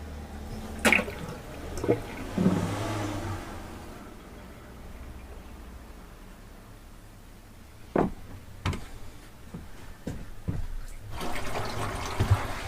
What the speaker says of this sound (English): when I release the plug, I noticed in the shower tray itself the water's coming back up again